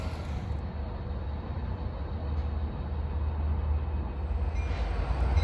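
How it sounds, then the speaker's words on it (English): A Long Island Rail Road diesel train at Mineola station, a heavy low engine rumble with steady rolling noise building slightly louder over the seconds, heard close and without talk. "Two diesels that come within minutes of each other"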